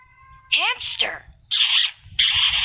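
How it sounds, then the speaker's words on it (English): A hamster lets out a quick rising squeak followed by two longer shrill squeals, close-up and loud against a quiet background. "Hamster."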